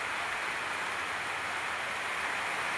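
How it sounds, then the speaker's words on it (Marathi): Heavy rain pours down over farmland during a cloudburst, a dense, even hiss of steady downpour filling the air without pause, with no voices. "सध्याला लाईव्ह पाऊस आहे"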